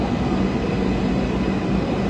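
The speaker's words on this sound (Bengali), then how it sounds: "দেখতে দেখতে আমাদের ট্রেন এসে গেল।" A New Garia metro train pulling into a Kolkata station, a loud continuous low rumble and rolling roar heard close from the platform, steady throughout.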